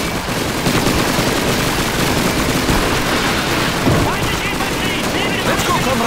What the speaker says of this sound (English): Grab a submachine gun and make sure you reload it first.